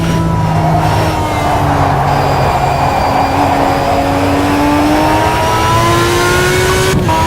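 Maserati MC12 GT1 race car engine in the Simraceway driving game, loud and close, revving and climbing through gears with rising pitch sweeps and a brief shift break near the end, no talk.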